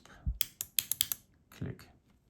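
Several crisp, sharp clicks from a clicky keyboard switch on a Sinus Project keyboard, pressed in a quick uneven burst, then a pause and a softer pair, close and fairly loud with no talk.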